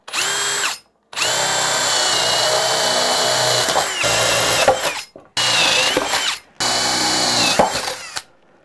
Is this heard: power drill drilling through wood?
yes